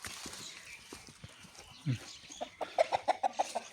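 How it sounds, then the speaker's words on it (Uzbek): Chickens and roosters cluck in a quick series of sharp, close calls over low background noise, with a brief lower squawk just before the run, as two roosters briefly fight. "Ikkita xo'roz bir-biri bilan picha-urush qildi."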